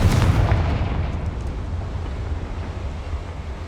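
Confringo blasting spell from the Hogwarts Legacy video game sets off a deep, booming explosion that rolls away into a long rumbling decay, loud at the start and fading steadily.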